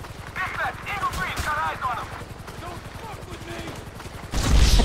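Gunshots in the video game GTA V, a dense rattle of rapid shots running under someone talking, with a louder burst or impact near the end.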